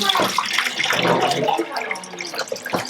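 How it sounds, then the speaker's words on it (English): Apple juice left from cooked apples for applesauce running through a strainer, a steady watery pour and splash throughout, close and fairly loud, with some faint voices in the background. "Okay, so now this is all the juice, the water from the bottom of the apples. So we're gonna run it through a strainer."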